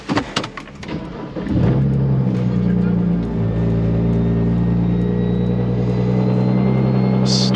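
A car engine catches after a few clicks and knocks, then settles into a loud, steady, throaty rumble. The drone holds close for several seconds with slight swells in pitch.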